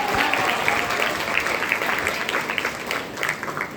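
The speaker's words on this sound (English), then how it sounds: "Another round of applause." Another round of loud, sustained clapping from a school assembly crowd, even and continuous with slight swells throughout.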